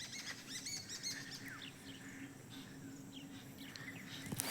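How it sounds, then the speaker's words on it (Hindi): Parrots chirp in a planted forest in spring, with short bright calls and twittering scattered over a steady insect-like background hum, fairly distant and moderately faint. "तोते।"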